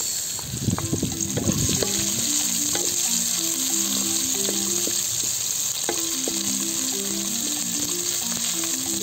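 Garlic and onion sauté in a hot pan, opening with a sharp burst of sizzling as they drop in, then settling into a steady close crackle with stirring, and nobody speaks.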